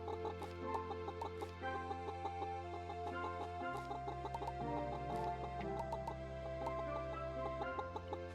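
Chickens cluck repeatedly in the farming video game Pumpkin Days, a steady run of short clucks laid over continuous game music with no talking.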